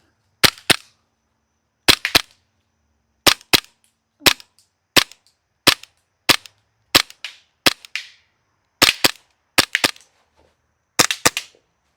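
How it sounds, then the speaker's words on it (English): A Lancer Tactical LTX airsoft rifle fires single rounds through a magazine, sharp close pops in quick pairs and singles spaced roughly a second apart, with no talking. "Let's try and fire off as many rounds as we can through this mag, see how many targets we can hit."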